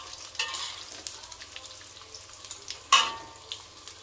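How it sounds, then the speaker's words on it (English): Anchovies dry-toasting in a pan without oil for sambal, soft crackling and scraping as they are stirred, with a sharper rattle near the end. "we can take out our anchovies and toast it"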